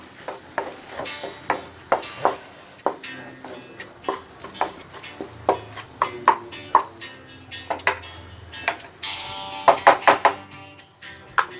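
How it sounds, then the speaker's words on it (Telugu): A spoon stirs small round potato fry with coriander powder in a pan, making irregular scraping knocks and clinks against the pan, about two or three per second, with a faint sizzle underneath. "దీన్ని కూడా ఇలా పైకి కిందకి కలుపుకుంటూ పోవాలి."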